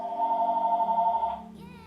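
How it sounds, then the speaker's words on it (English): A telephone ringing nearby, a sustained electronic ring tone lasting over a second before cutting off into a brief, fainter tone. "That's the phone."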